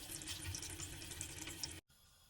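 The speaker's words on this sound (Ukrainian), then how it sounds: "Зараз залью водичкою і поставлю відварюватися. Вода проста з-під крана." Plain tap water pours steadily into a pot holding salt pork and meat, a full, hissing gush that runs on for nearly two seconds before the faucet is shut off abruptly.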